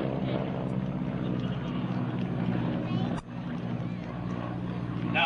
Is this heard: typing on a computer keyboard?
no